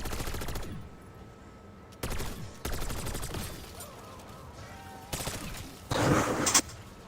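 Golden shotgun gunfire in Call of Duty: Black Ops 6, several sharp, separated blasts with echoing tails spaced a second or more apart, the last burst the loudest, over quiet game ambience.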